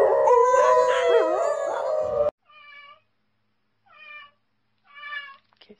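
A cat howls in a house, a loud wavering drawn-out yowl that breaks off suddenly, followed by three shorter, quieter moaning howls spaced a second or so apart.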